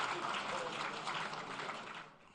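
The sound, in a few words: audience applause for the President and Vice President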